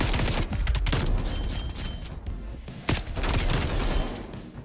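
SMG fire in a Call of Duty Domination match rattles in dense, loud rapid bursts with sharp individual shots and a busy battlefield din throughout.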